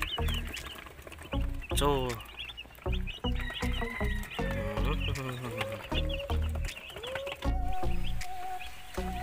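Broiler chickens raised on a farm cluck and squawk repeatedly in a busy, close flock, with irregular calls throughout and a person briefly speaking.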